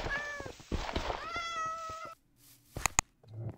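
Several cats meow in a Minecraft game, a run of overlapping drawn-out cries up close, then a short pause and a few sharp clicks.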